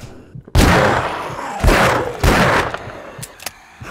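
Gunfire in the survival game 7 Days To Die, a few heavy booming shots spaced about a second apart with short echoing tails, followed by fainter clicks.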